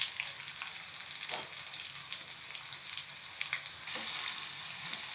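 Chopped shallots, crushed garlic and curry leaves sizzle in hot oil for a Tamil tempering, a steady close crackle with occasional sharper pops and spatters.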